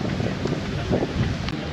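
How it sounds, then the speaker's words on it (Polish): A gust of wind blows across the microphone at an outdoor beer festival, a steady, loud, full rumble of buffeting that lasts the whole short moment without a break. "Jakaś wichura się zrobiła."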